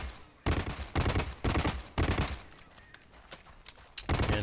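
Gunfire in the Blacklight: Retribution video game comes in loud, sharp bursts with brief gaps between them, several close shots in quick succession.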